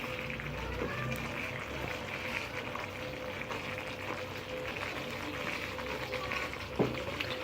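Tomato pickle mixture with red chilies cooking in oil, a steady, faint bubbling and sizzling that holds an even level throughout with occasional small pops.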